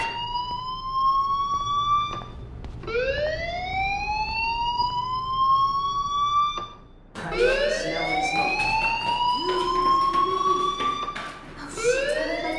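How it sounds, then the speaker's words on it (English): A fire alarm sounds in the video game Life Is Strange: repeated rising electronic wails, loud and continuous, with a short gap partway through. "Hey, do you hear that fire alarm?"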